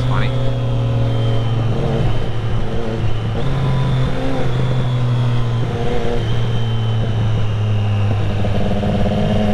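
A Triumph Street Triple RS and a Trident 660, both three-cylinder motorcycles, ride on hilly roads with a continuous loud engine drone whose pitch rises and falls through gear changes, with talking over it.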